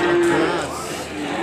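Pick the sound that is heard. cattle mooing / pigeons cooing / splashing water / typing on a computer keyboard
cattle mooing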